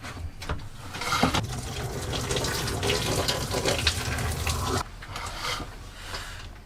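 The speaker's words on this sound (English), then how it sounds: "I'm going for a shower." Shower water running steadily in an off-grid home with a DIY solar and back-boiler hot water system, a continuous close rushing spray that drops slightly in level near the end.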